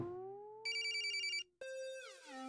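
An electronic phone ringtone chimes clearly, a melodic tone followed by a repeating ring pattern, with no talking.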